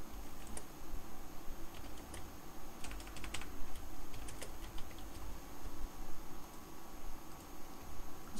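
Fast typing on a computer keyboard while entering resume details in MS Word, a continuous close clatter of key taps in uneven bursts with no talking.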